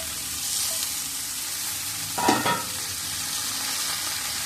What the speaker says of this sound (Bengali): ঝিঙেটা দিয়েও দু মিনিট কষে নিয়ে